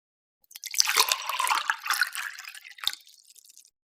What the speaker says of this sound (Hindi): अब मैंने छोटी बोतलें आप देख सकते हैं कि ये भर रहा हूँ।